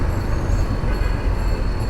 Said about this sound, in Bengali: এই যে আমাদের স্বপ্নের মেট্রো রেল।